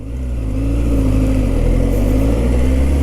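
A Kawasaki superbike engine in sports mode builds from a low idle into a steady, swelling rev around 4000 RPM, loud and close, a deep continuous drone with no talk over it.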